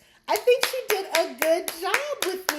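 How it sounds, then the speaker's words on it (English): Steady, evenly spaced hand claps, roughly two per second, ring out under a voice at a live Sip n Slay show, a small round of applause for the host rather than a big crowd. "give a round of applause for my host"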